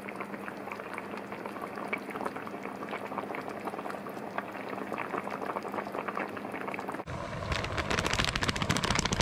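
Beef in a tomato-onion gravy bubbles steadily in a pot, a continuous close boiling burble that grows louder and denser near the end.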